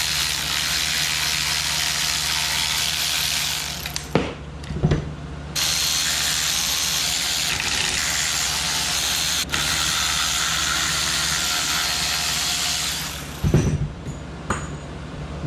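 Ratchet wrench turning out bolts during a transmission teardown, a steady close clicking ratchet run lasting several seconds, broken by brief metallic clinks and knocks near the middle and end, with no talking.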